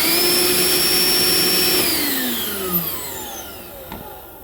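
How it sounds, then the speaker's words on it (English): A repaired Ridgid 18V NXT cordless shop vac runs loud and close with a steady whine that slowly winds down as the motor shuts off, ending with faint clicks. "vacuum works."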